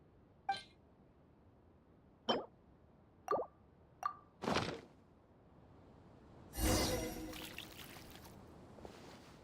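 Water poured and splashed in Genshin Impact: four short plops spaced apart, then a longer, louder splashing pour, all faint and with no voices.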